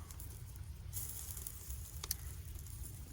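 Burger patties sizzle over a campfire on an overnight outing, a steady close crackling hiss with a few sharper pops and snaps, no talking heard.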